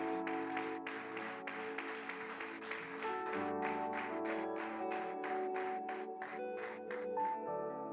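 A church congregation claps in a steady rhythm over sustained keyboard chords during a sermon, the taps even and fairly faint beneath the music.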